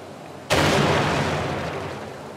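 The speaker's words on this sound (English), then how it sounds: "so it doesn't just explode straight when we start the scene" A game-engine explosion sound effect from an Unreal Engine 4 Matinee scene bursts in suddenly after a half second of low ambience, a loud broadband boom that rumbles and slowly decays.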